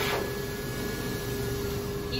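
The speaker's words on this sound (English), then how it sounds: "I'm gonna just turn on the dryer again" Pet dryer blowing on a three-legged dog being treated for severe flea infestation, a steady close whirring blast with a constant tonal whine.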